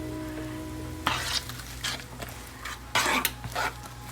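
Diced onion, about half a cup, simmers and sizzles steadily in a pan, with louder bursts of frying and brief utensil scrapes against a low hum; no one speaks.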